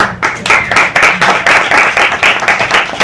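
A pub audience claps together, a dense, close burst of many hands that swells and surges in rhythmic waves for a few seconds without pause.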